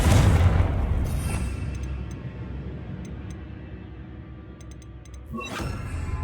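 In the video game Hogwarts Legacy, a Confringo blasting spell lands as a loud, deep boom that fades into a long rumbling tail, with faint ticking game sounds and a second burst near the end.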